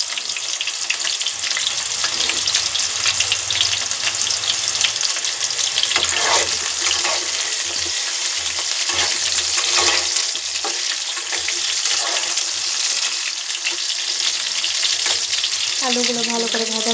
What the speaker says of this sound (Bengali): আলুগুলো ভালো করে ভাজা করে নেব।